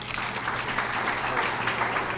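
Applause from a breakfast audience at a small business awards event, a steady dense wash of clapping that fills the whole moment without letting up.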